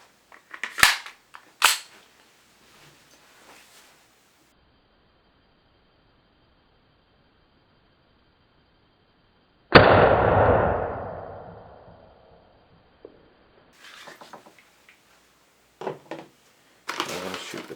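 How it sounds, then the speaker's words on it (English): Airsoft gun firing .20 gram Tippmann 6mm BBs: a couple of sharp cracks near the start, then one loud close shot with a decaying ring, followed by scattered fainter clicks and handling noises. "Now we're going to shoot the .20 Tippmann BBs."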